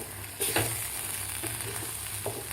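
Tomato chutney sizzles and fries steadily in a pan, with a few soft stirring scrapes over a constant hiss and no voices.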